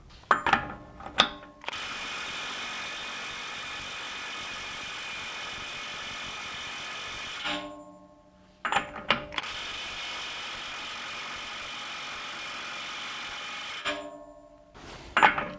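A Milwaukee 3/8 inch mid-torque impact wrench works on a nut in two long sustained bursts of rapid hammering, each about six seconds, with short trigger blips and clicks before and between them.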